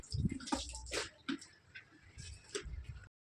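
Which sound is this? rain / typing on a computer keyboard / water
water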